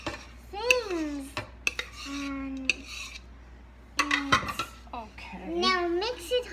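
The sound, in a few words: mixing carrot cake batter in a bowl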